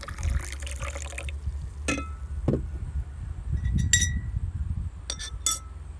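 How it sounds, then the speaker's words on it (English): A few sharp clinks and rattles of ice hitting a glass of lemonade, with a brief liquid splash early on, close and fairly quiet. "We'll pour a little ice in there."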